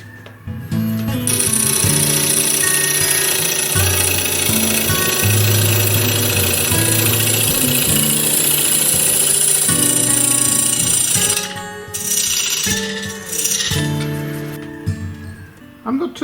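Wood spins on a woodturning lathe as the tool cuts, giving a loud, steady hum with a high scraping whine and shifting pitch. The cutting pauses and changes near the end.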